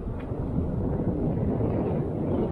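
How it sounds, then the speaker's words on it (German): Low, rumbling buffeting of wind against a microphone, continuous and fairly loud throughout, with no voices. "es ist gerade ein bisschen windig"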